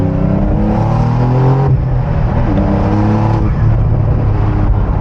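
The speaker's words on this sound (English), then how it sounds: "The turbo sound is so crazy." Turbocharged engine of a Porsche 911 992 4S with a seven-speed manual pulls hard on a highway, loud and close from inside the car, revving steadily with shifts and rising turbo whine and no talking.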